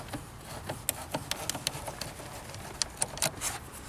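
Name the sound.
10 millimeter wrench loosening positive car battery terminal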